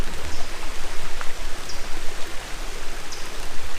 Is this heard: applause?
no